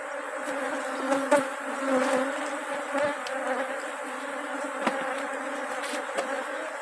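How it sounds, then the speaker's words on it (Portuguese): Bees buzz steadily around an opened beehive frame holding honey, a dense close hum with a few louder passes near the listener. "Aqui tá com mel. Peguei um quadrinho aqui."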